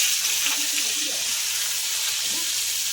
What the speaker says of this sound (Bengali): এবার আমি এই যে নুন হলুদ মাখিয়ে রেখেছি আলুটা সব দিয়ে দেবো